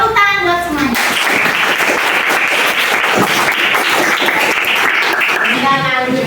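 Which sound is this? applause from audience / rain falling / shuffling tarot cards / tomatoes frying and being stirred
applause from audience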